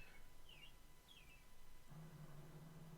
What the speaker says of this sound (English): Bird twittering, but is it tweeting?